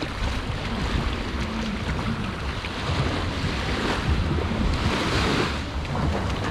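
Rough, wavy surf rolling onto Negril Seven Mile Beach in Jamaica, a loud continuous roar of breaking waves mixed with gusty wind buffeting the microphone.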